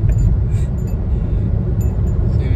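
A Hyundai i20 hatchback being driven, heard from inside as a steady low engine and road rumble that holds evenly throughout without any talk.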